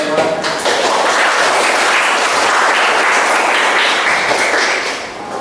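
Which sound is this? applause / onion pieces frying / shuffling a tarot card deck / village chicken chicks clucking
applause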